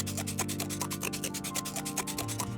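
Cardboard is cut for a sea turtle craft, a rapid, regular run of close rasping strokes in a steady sawing rhythm, with no talking.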